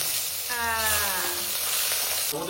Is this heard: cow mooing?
no